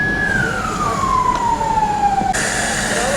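An emergency vehicle siren at a house fire in Elazığ, Turkey, sounding one long wail that slides steadily down in pitch and winds off, with engine rumble and street noise underneath.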